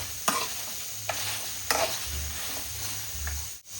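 Okra pieces dry-roasting in a pan without oil, giving a steady soft sizzle with a few sharp stirring scrapes and spoon clinks, close and alone.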